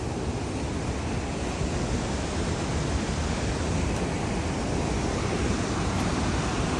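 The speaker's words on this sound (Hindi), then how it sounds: "तो हम लोग वॉक करते करते इस वाटरफॉल के पास आ गए। देखो वो कहाँ से बह रहा है, कितनी हाइट से।" Waterfall pouring from a height on a Valley of Flowers trek in Uttarakhand, a steady, dense broadband roar throughout, loud and close, with no talk.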